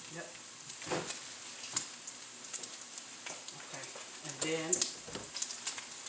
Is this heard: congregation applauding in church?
no